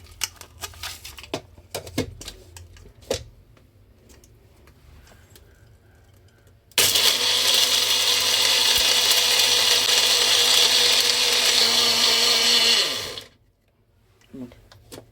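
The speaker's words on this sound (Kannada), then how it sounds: "ಇವಾಗ ಇದನ್ನು ನೈಸಾಗಿ ರುಬ್ಕೊಳ್ಳೋಣ." A mixer grinder blends a mixture with a little milk, starting abruptly with a loud, steady whirring roar for about six seconds and then stopping, with clattering and handling sounds before and after.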